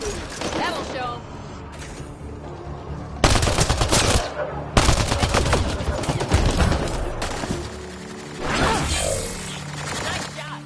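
Rapid automatic gunfire in Mass Effect Andromeda, loud bursts of shots with sustained stretches of fire and crashes among the combat, mixed with game voices and in-game talk.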